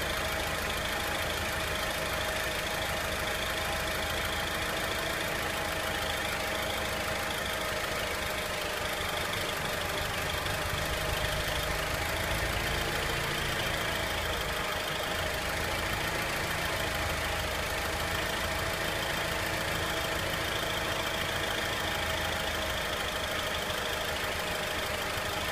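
An Alfa Romeo Spider engine idles steadily, a constant, moderately loud mechanical hum with faint ticking, heard close under the bonnet while fuel is sprayed toward it, with no clear change in pitch and no voices.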